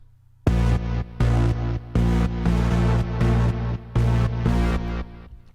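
A synth pad in Logic Pro X chopped by a noise gate with side-chaining over a sustained bass drone, pulsing in about seven even, loud blocks with abrupt on-off edges, alone with no voices.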